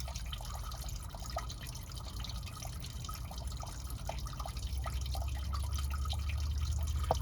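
Diesel fuel draining from the fuel filter of a 2024 Ford F-250 6.7L Powerstroke into a bucket, a steady trickle and patter of liquid with intermittent drips, continuous and close, without talk.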